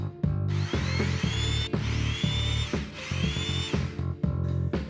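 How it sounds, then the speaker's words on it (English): A power drill bores side-dot and marker holes into the fretboard of a hollow-body PRS-style guitar kit, in about four close, loud whining bursts separated by short pauses, with no talk. "And now I'm drilling some holes, which will be our side dots and fretboard markers."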